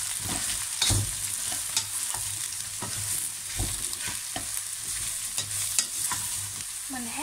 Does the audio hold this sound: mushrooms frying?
yes